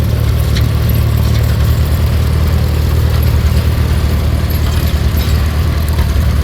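A vintage tractor with a four-cylinder vertical engine runs in a parade of power at a threshermen's show, giving a loud, steady low rumble that stays constant throughout with no talking.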